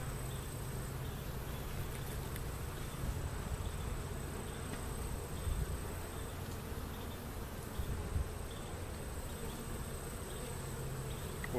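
A dense, steady hum of honeybees buzzing on a hive frame from a small swarm, close and continuous throughout with no talking.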